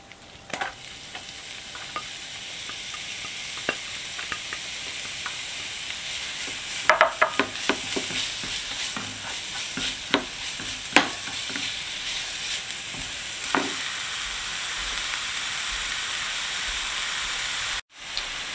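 Red onion fries in a spoonful of olive oil with a loud, steady hiss and crackle, broken by occasional clicks and scrapes of stirring before it ends abruptly.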